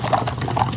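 Bubbles are blown through a straw into water for a bubble-painting craft technique, giving a steady soft gurgling burble close up with no talking.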